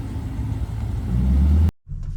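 A car pulls in at a Lexus owners' meetup. Its engine rumble is close and swells for about a second and a half, then cuts off abruptly, leaving only faint low background noise.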